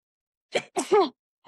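A single sharp sneeze bursts out in two quick parts, close and fairly loud, followed by silence.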